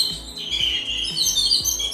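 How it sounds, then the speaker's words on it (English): Small birds chirp at a backyard feeder, with quick, bright repeated tweets layered over one another. A steady, soft low thumping pattern runs underneath. "they feed the birds. So the birds come here and they get the food"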